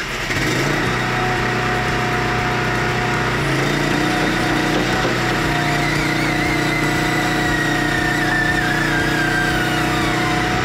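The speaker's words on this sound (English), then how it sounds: "we have a 13 horsepower Honda motor in the base mount. We're going to start that, bring the neck over." A 13 horsepower Honda engine in the base mount of a Load King 65-ton lowboy trailer, driving the hydraulic flip neck, runs loud and steady throughout, a close continuous small-engine drone with a slight rise as it works.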